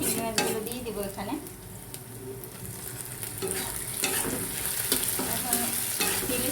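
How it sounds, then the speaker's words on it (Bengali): Prawns frying in oil with onion, green chilli and salt, stirred in a pan: continuous sizzle with scraping spoon strokes against the pan, close and moderately loud, no talking. "এখন তেলের সাথে আমি ভালোভাবে একটু নাড়াচাড়া করে নেব, ভালোভাবে মাছটা ভেজে নেব।"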